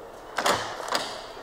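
A door in an old building on a town square is opened, giving two brief broadband scraping knocks close by, one strong and one softer, against quiet room tone.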